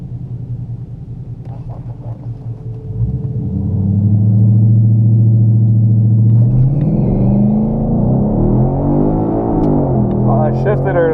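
A stock 2015 Mustang GT and a 2018 Charger Scatpack launch at full throttle, engines rumbling at idle and then surging into a loud, rising roar that climbs through the revs, close to the listener.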